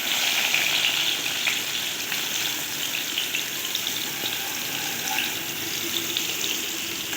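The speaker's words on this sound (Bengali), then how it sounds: "আলুগুলো এবারে আমি সব ভালো করে লাল লাল করে ভেজে নেবো" Potato pieces fry in hot oil for a Bengali pumpkin and prawn dish, a continuous close sizzle with faint watery hiss and occasional soft clinks, steady throughout with no talking.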